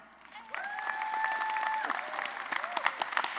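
Audience applause at a spring college of social work commencement ceremony honoring faculty award recipients, steady clapping from a seated crowd with a tonal whistle or feedback tone running over it, then scattered claps tapering off.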